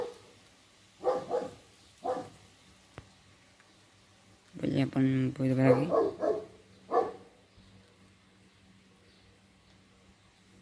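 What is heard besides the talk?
dog barking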